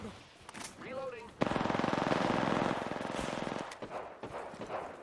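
Rapid automatic gunfire in Apex Legends, a loud sustained burst lasting a couple of seconds, followed by scattered shots and game effects, with a voice speaking over it at the start.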